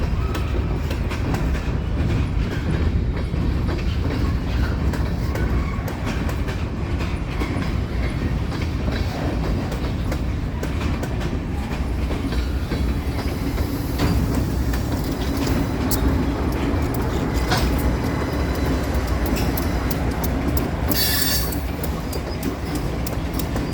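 A heavy freight train with two locomotives sandwiched between cars rumbles past close by, a steady roar of wheels and clattering cars with occasional high metallic squeals.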